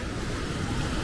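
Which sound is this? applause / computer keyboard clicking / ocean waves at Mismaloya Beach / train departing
ocean waves at Mismaloya Beach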